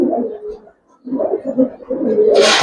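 Old-generation Giribaz pigeons, a dumkala male among them, coo close by in soft throaty rolling bursts with a short pause in the middle, while someone talks over them.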